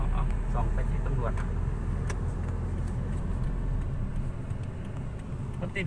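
Heavy traffic in a jam at a police checkpoint in Kabin Buri rumbles with a steady low engine drone and passing cars, while someone talks over the noise.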